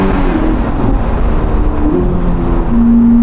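A Novitec-tuned Ferrari SF90 Spider with a sport exhaust driving, a loud sustained engine drone heard from inside, with pitch shifts as it changes speed and a steady tone rising near the end.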